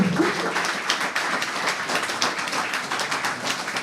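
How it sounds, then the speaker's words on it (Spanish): An audience applauds at an award ceremony for a mother-tongue language prize, dense steady clapping over several seconds at moderate level. "Aplauso para ele"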